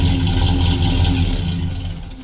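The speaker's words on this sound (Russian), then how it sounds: "Мотор работает хорошо." A steady ZIL-131 truck engine idles close by in a garage, a low rumbling drone that holds evenly and fades slightly toward the end.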